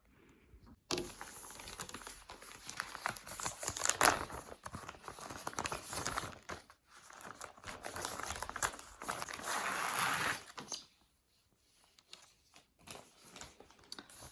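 Crinkling plastic packaging of a diamond painting or cross-stitch craft kit being handled and torn open in bursts, close up, with pauses between rustles and no talking.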